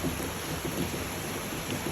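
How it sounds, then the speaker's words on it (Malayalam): Continuous rain pouring down, a broad steady wash of noise with a faint low rumble underneath. "ഇപ്പോൾ മഴ പെയ്തുകൊണ്ടിരിക്കും."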